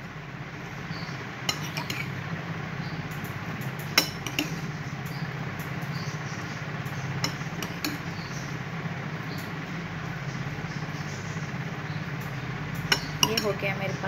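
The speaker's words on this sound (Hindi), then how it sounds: "इसको करूँगी अच्छे तरीके से मिक्स" A spoon mixes cut fruit and dry fruits in a bowl for a creamy fruit chaat, with soft steady stirring and scraping and a few sharp clinks against the bowl, faint and close.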